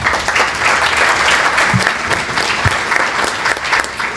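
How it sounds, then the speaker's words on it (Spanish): Applause from an audience at a public policy lecture, dense and continuous clapping that stays full and fairly close for the whole stretch, with no talk over it. "Lo recibimos con un fuerte aplauso."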